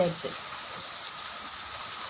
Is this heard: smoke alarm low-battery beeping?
no